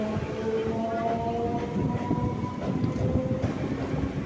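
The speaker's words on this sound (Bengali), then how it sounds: "আমাদের ট্রেন লেক গার্ডেন স্টেশন থেকে ছেড়ে দিল" A Kolkata metro train pulls out of Lake Gardens station with a low rumble and rising whine, steady tonal hums over rail noise heard from inside the carriage, moderately loud and continuous.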